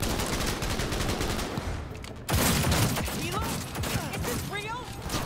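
Pistol gunfire rings out in the Cyberpunk 2077 game during a chaotic firefight, with repeated loud shots over noisy combat sounds and a louder burst partway through. A voice talks over the action.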